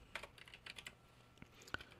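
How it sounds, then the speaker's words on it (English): Light, quick keystrokes on a computer keyboard, a dozen or so soft clicks in an irregular rhythm, close and quiet with no voices over them. "you can simply start typing"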